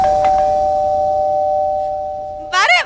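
A house doorbell rings in a domestic drama scene, one sustained electronic tone held for about two seconds, close and clear, followed by a brief burst of speech.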